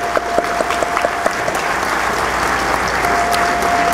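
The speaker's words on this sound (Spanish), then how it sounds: "Un fuerte aplauso para los ingenieros." A ceremony audience gives engineers a strong round of applause at a professional registration event, a full steady roar of clapping with a few sharper claps and a faint tone near the end.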